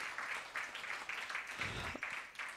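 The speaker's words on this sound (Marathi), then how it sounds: "एकदा जोरदार टाळ्या आपण त्यांच्यासाठी वाजवूयात." An event audience claps at a sponsor's introduction in a short, fairly faint burst of steady applause.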